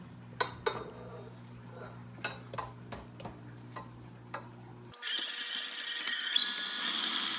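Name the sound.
creaming 24 ounces of cream cheese for frosting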